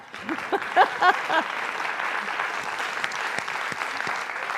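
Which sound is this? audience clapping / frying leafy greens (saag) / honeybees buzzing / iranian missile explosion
audience clapping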